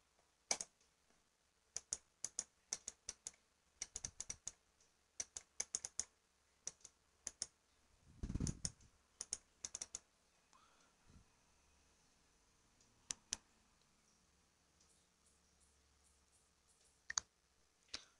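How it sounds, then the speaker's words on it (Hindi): Sharp, isolated clicks of a computer mouse, arriving in quick scattered bursts over about eighteen seconds, close and fairly quiet against a faint background hiss. "मैं अभी यहाँ पे माउस को क्लिक करूँगा"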